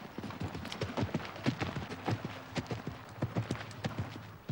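Polo pony hooves beat rapidly and rhythmically in a steady galloping clatter with a faint background wash, fairly close and continuous throughout.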